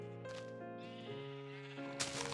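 Sheep bleating in Minecraft, a few drawn-out wavering bleats following one another at steady volume, close and clear, with no talking.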